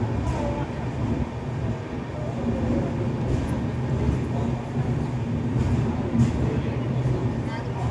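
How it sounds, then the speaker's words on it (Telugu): A train pulls into Tirupati railway station with a steady low rumble of wheels and carriages, faint rattling and clanks over the top, and a voice talking over the noise. "52 కిలోమీటర్స్ కంప్లీట్ చేసిన తర్వాత మన ట్రైన్ అయితే తిరుపతి రైల్వే స్టేషన్కి అయితే వచ్చింది."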